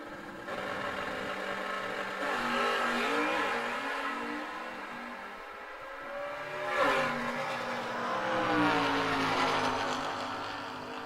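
Chevrolet Chevelle drag race car at an outlaw drag racing event, engine revving and burbling in steady swells with one sharper rise, heard from a moderate distance.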